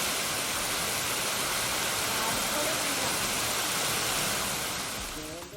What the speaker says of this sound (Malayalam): ശക്തമായ കാറ്റും മഴയും ആലിപ്പഴ വർഷവും